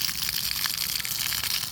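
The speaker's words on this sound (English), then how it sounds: "it can produce a serious amount of water." Water gushes hard and steady out of a 1.5-inch pipe on a rural property, a loud, close, continuous hissing rush at roughly 16 gallons a minute.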